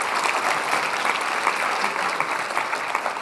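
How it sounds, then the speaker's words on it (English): A conference audience at the EU Climate and Health high-level opening session claps steadily, a moderately loud, even crowd applause that continues throughout without speech. "we get a big round of applause for all of you guys"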